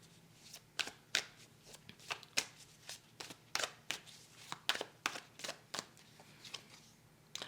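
Tarot cards are laid down one over another on a table, making a quick series of sharp, close flicks and slaps, about a dozen in irregular rhythm, quiet overall.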